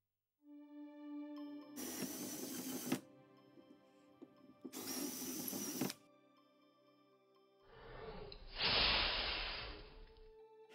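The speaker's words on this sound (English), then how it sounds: "Last thing here was to drill a few holes" Two bursts of a power drill whirring through scrap wood, then a rougher, louder grinding burst, with quiet pauses between.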